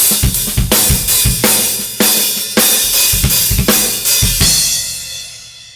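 A drum kit plays a halftime shuffle groove with loose, washy hi-hat, heavy backbeat snare hits and quick double bass-drum strokes, a punchy repeating pattern that fades into ringing cymbals at the end.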